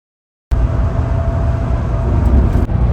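Steady engine and road roar inside an Airavat Club Class 2.0 bus cruising on a highway, a constant loud drone with no talk.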